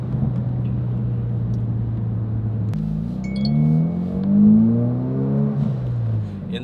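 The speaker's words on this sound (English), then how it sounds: "you can hear that induction noise coming from the engine bay" Engine induction roar through a Mountune cold air intake on a Ford, rising in pitch as the car accelerates, a steady loud hum climbing through the gears, heard from inside the vehicle.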